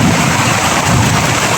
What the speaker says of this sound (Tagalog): Lakas ng ulan mga idol, tapos wala pa tayong masilungan.